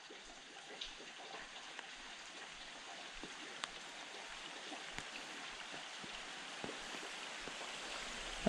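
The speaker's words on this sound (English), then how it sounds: "Here comes the rain." Light rain begins falling beside a drain at an autumn fishing spot. It makes a soft, steady patter with scattered sharper drops tapping nearby surfaces, and no voices are heard.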